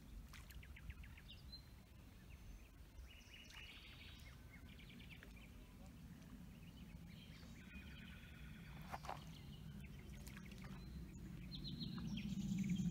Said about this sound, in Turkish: kuş seslerinden başka hiçbir şey olmayan harika bir yer.